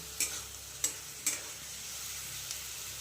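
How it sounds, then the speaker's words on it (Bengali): Vegetables and spice paste with Kashmiri chili powder stirred in a pan, a low background sizzle punctuated by three sharp spatula knocks against the pan early on and a faint tap later. "সবজি আর মশলার সাথে ভালো করে এগুলোকে মিক্স করে নেবো"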